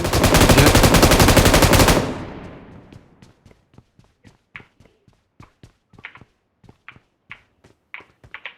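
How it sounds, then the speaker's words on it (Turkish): Shooter video game firefight: a dense, loud burst of automatic gunfire for about two seconds, then a fading tail and a string of sharp, separate single shots and clicks spaced through the rest of the scene. "Bir yerden bir mermi yiyoruz."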